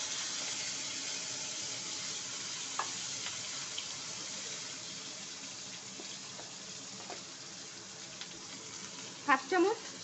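Beans, potatoes and green chillies frying in oil with cumin seeds, a steady even sizzle with faint stirring scrapes and a couple of louder clinks at the end.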